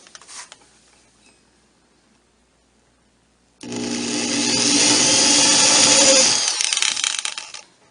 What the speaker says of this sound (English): The pilot holes are carefully drilled using a 1/8" drill bit.